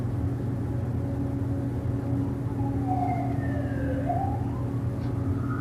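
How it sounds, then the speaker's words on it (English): During a yoga class, a distant emergency siren wails faintly, its pitch rising and falling over a steady low rumble of traffic or engine hum. "Noticing if the siren comes into your consciousness, let it be there."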